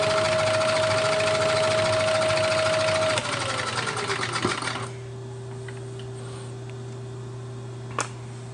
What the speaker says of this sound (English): no hole would be complete without a nice countersink.